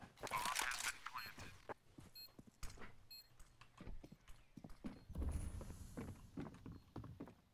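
Footsteps in Counter-Strike on the Inferno map, quick crunching steps mixed with game ambience and occasional louder bursts, fairly close and with no talk over them.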